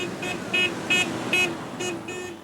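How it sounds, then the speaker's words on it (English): Car horns honk in a string of short, evenly spaced toots, about six in all, as night shift workers leave an auto plant after a UAW vote, loud over a low traffic hum. "Night shift workers honked in celebration as they left the plant"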